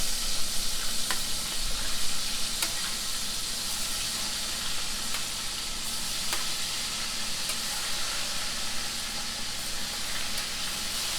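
Shrimp for firecracker shrimp sizzling steadily in a hot pan as they are stirred and tossed, a continuous loud frying hiss with faint scraping clicks from the utensil, no voices.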